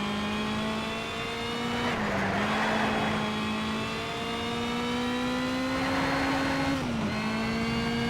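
A race car engine holds full throttle in the Need for Speed: Shift racing game, a loud, continuous whine that steps down twice with quick gear shifts and then climbs again, with no voices.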